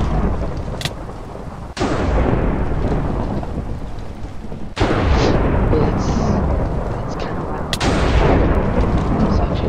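Lightning strikes in a murder mystery video game. Three loud, sharp thunderclaps crack a few seconds apart over heavy, steady rain.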